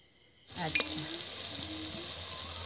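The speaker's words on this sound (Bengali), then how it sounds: "ছাঁচটা গরম হলে ব্যাটারে ডুবিয়ে তারপর তেলে ভেজে নিতে হবে।" Flower cookie batter on a hot iron mold dipped into hot oil, a sudden burst of bubbling sizzle with a faint metallic clink, settling into a steady close frying hiss.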